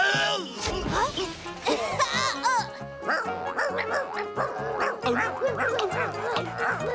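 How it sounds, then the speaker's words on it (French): Several dogs in a French animated cartoon bark and yip excitedly in rapid, overlapping bursts, loud and close, mixed with background music and effects. "Les chiens arrivent!"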